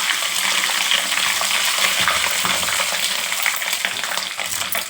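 Dried red chillies dropped into hot tempering oil with mustard seeds, just after the stove is switched off, crackle and sizzle loudly and continuously up close, with a dense, spattering hiss throughout.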